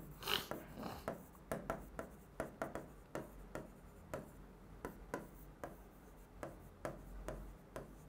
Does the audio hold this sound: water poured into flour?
no